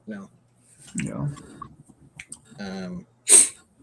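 A single loud, sharp sneeze bursts out near the end, following a few brief spoken words and quiet breathing at a chess tournament.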